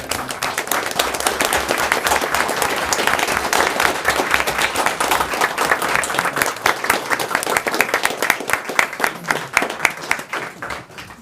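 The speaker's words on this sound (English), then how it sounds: "please give Mr. Anderson a round of applause" An audience at a town board of trustees meeting gives sustained applause, steady and fairly close, turning into rhythmic, more separated claps toward the end.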